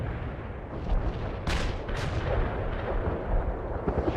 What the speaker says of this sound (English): A lot of artillery.